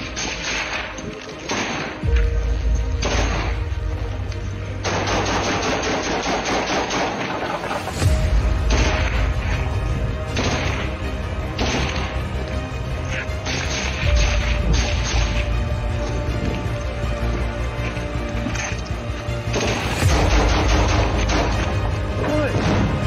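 Gunfire and grenade launchers firing in close-range combat, with heavy repeated thuds and booms over continuous loud crackling, with several strong low-end blasts spread through the stretch, and voices shouting in between.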